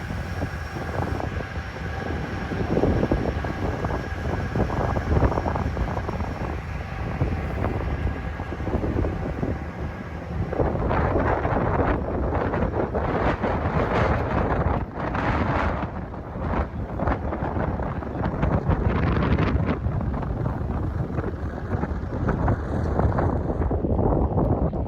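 Strong wind buffets the microphone aboard a ferry leaving Iona for Mull in Scotland, over a constant low engine and water rumble. The noise stays loud and unbroken throughout, with no voices.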